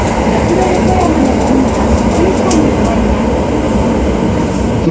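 Toei Shinjuku Line express subway train running loud and close with a steady rumble, rattling wheels and faint clacking as it pulls into Bakuro-Yokoyama station, with no voices heard.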